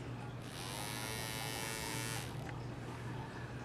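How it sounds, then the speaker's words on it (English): A small electric motor runs in a closed circuit, giving a steady high whine that starts abruptly, holds for about two seconds and cuts off, close but fairly quiet over a constant low hum. "you should be able to hear the motor run"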